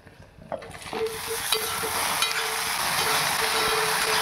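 Okra and potatoes frying in a pan give a steady, close sizzle with a few clinks and scrapes of stirring early on.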